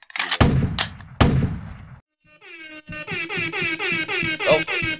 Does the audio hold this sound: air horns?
yes